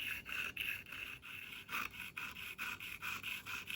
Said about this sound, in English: It just takes a few rubs to remove the grinding marks.